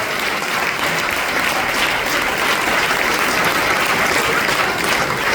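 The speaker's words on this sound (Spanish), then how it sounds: "Dale ese fuerte aplauso a Jesús" A church congregation claps hard in worship, a loud, even, unbroken burst of applause filling the room for several seconds without pause.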